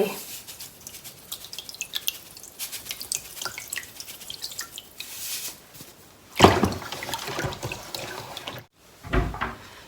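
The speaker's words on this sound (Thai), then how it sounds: "มาเปิดน้ำใส่อีกด้วยค่ะ" Tap water running into a container while apples are prepared for pickling, a splashy, uneven gush with louder bursts near the end, close by, with faint voices in the background.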